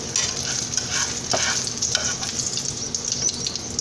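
A blueberry egg omelet fries in a pan just after being flipped, giving a loud, even sizzle with faint scraping from a spatula, close up and without speech.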